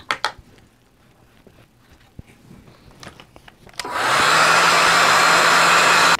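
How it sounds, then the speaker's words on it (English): After a few quiet taps and clicks, a hair dryer drying watercolor paint switches on and blows with a loud, steady whoosh and whine until it cuts off. "I'm gonna actually dry that with my hair dryer."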